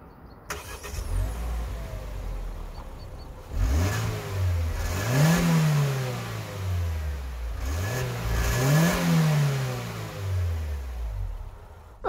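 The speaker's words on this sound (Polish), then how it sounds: "Normalny dźwięk silnika, benzynka." A 2024 MG ZS with the 1.5 VTi-Tech four-cylinder petrol engine starts and idles, then is revved twice, each rise and fall clear and close with no talk over it.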